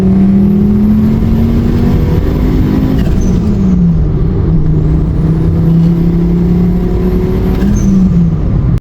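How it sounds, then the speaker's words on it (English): Volkswagen Golf on a test drive after storage, with a seized rear caliper; loud, steady engine and road drone from inside the car, with the engine pitch rising and falling through gear changes. "Just gonna take it for a test drive"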